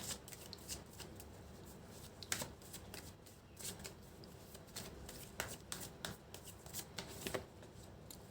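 Tarot cards shuffled by hand during a love reading, giving a steady close papery riffle with sharper slaps and flicks scattered through, with no voice over it.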